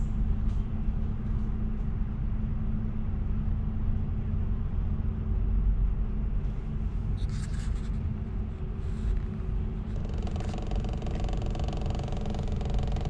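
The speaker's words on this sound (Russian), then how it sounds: "Что-то поезд, по-моему, разваливается." A German regional train rumbles steadily along, with a continuous low roar and some rattling and clattering over the rails. No one speaks.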